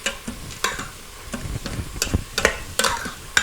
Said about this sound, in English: 2 cups of broth. And I'm going to add a can of diced tomatoes.